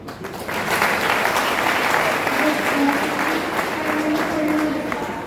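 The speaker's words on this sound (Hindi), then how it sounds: "अब लगाओ जरा ताली।" An audience at Sarla Birla University applauds a student, a dense, steady wash of clapping from many hands that holds for about five seconds with a faint crowd murmur beneath.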